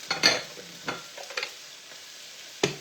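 Onions frying and browning in a pan for a beef and ale stew, heard as a faint, steady sizzle broken by a few sharp stirring scrapes and clatters, with no talk.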